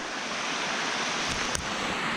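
Water rushing at the top of a waterfall, a steady dense roar of pouring water filling the scene up close, with a brief knock partway through and no talking.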